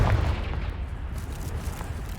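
A Confringo blasting spell goes off in a wizarding video game, a booming low rumble that swells at the start and then rolls on steadily with no voices.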